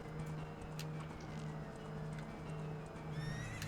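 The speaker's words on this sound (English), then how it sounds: "we have to wait for the horse to be coming out of one of them." Horse neighing and trotting hooves in the Zelda: Ocarina of Time HD video game, a whinny over steady clip-clop footfalls, fairly close, with game ambience and a low hum beneath and no talk.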